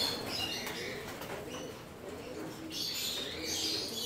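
Young pigeons on a loft landing board, with low coos and bursts of wing flapping up close over a steady outdoor background.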